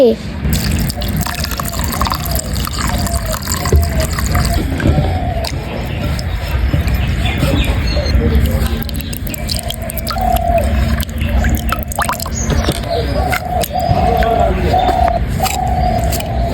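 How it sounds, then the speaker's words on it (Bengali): Water is poured into a bowl of batter for prawn fritters, making close splashing and filling sounds with drips, under a talking voice. "পানি দিয়ে দিচ্ছি"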